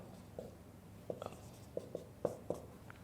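Writing on a surface while working out a polynomial example, with soft, irregular taps and short strokes spread over a few seconds, close and faint against a quiet background hiss, with no speech.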